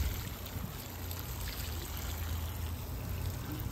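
Water poured from a watering can or hose onto newly planted cilantro in a home garden bed, a soft steady trickling stream with low background rumble, fairly quiet and continuous, with no talk.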